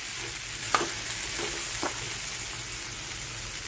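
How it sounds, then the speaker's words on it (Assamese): Spices sizzling in a hot pan, a soft continuous fry with two or three light scraping stirs early on, close and fairly quiet. "এইখিনি অলপ দেৰি ভাজিম"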